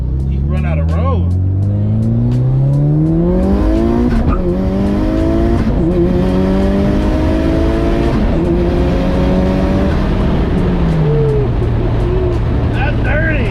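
A 400 WHP Mitsubishi Evo pulls hard uphill in fourth gear, its engine note climbing steadily and loud from inside the car, with people talking over the rising drone.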